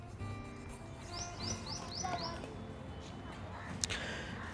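A small bird chirps a quick run of five rising tweets, faint and distant, in a quiet rainy outdoor setting, followed by a brief sharp click.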